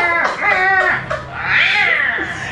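A person vocally imitates a fighting cat, a few drawn-out, harsh meowing wails rising and falling close to the mic over about two seconds.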